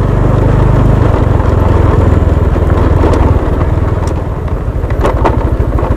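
A Kawasaki W175 motorcycle engine runs close and loud on a rocky road, a continuous throbbing low rumble with pulsing chugging that continues for the whole stretch without talking.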